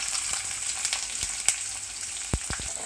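Chopped shallots frying in hot oil with fenugreek seeds and curry leaves, a soft steady sizzle up close with a few sharp spatula clinks and stirring knocks.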